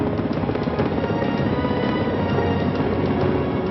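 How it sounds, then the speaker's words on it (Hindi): An Indian Air Force helicopter gives a steady, loud rotor and turbine drone that holds even and unbroken throughout, with no voices. "एयरफोर्स का हेलीकॉप्टर उन्हें मंजिल तक पहुंचाता है।"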